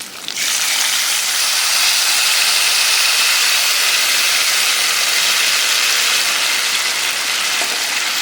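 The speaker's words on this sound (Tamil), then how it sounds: "மீடியம் ஃப்ளேமில் வச்சு நல்லா கொதி போட வரைக்கும் நல்லா சுண்டுற வரைக்கும்" Tamarind paste for puliyodharai boiling on a medium flame gives a steady, loud, continuous hiss that holds without a break from start to finish.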